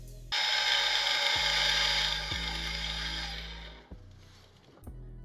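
Electric parking brake caliper motor on a 2022-2024 Nissan Pathfinder, powered directly from a tool's leads: a loud, steady whirring buzz that runs for several seconds with a few brief clicks and pitch shifts as it changes.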